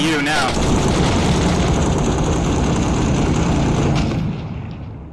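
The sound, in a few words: gunfire in video game Six Days in Fallujah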